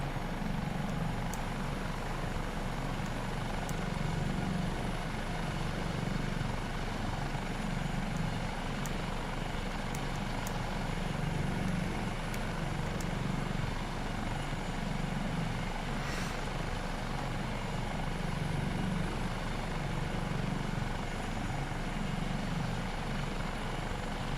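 An HH-65A Dolphin helicopter in Microsoft Flight Simulator 2024 holds a steady, loud rotor and turbine drone throughout, a constant thrumming hum with no voices.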